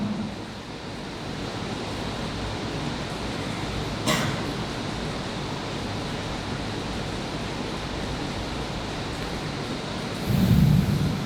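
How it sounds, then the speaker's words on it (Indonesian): Heavy rain pouring steadily outdoors as a constant broadband hiss, with a sharp crack near the middle and a louder low rumble of thunder close to the end. "Hujan juga nih sampai selesai."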